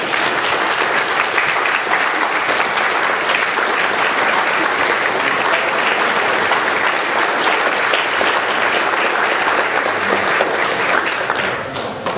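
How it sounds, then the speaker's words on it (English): A church congregation applauds a visiting bishop during a Sunday service, a steady, dense wash of clapping that holds loud and even for about twelve seconds before easing slightly at the end. "Please rise and give him a round of applause."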